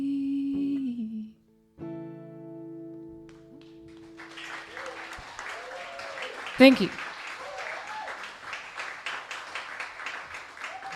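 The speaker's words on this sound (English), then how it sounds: "give her another round of applause for that song" A musical tone fades out, then an audience breaks into sustained clapping and cheering while a voice speaks briefly over it.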